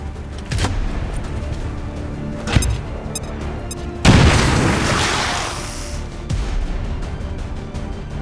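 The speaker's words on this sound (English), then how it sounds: "Grenade out!" A grenade detonates in the strategy video game XCOM 2, a loud, sudden boom with a rolling, debris-filled blast that decays over several seconds amid scattered smaller game impacts and pops.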